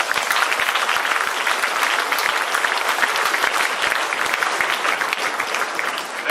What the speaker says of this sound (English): Don't you think they need a big round of applause?